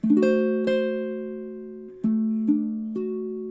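Baritone ukulele plucking the filler part of measure 11 of a song, a handful of clear picked notes ringing and decaying in a slow, even rhythm, close and alone.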